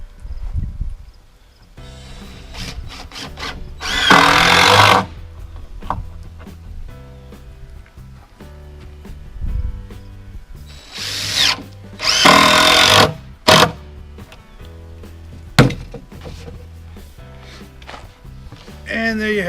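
A power drill drives screws into a wooden picnic table kit in a few loud, whirring bursts separated by quiet pauses, knocks and clatter of handling the parts.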